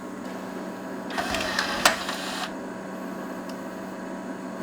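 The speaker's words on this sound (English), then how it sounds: "It's doing its little dance now, seeing if it can detect a disc, which it can't." Pioneer laser disc player powering up and searching for a disc, giving a short burst of whirring and clicking mechanism noise over a faint steady hum.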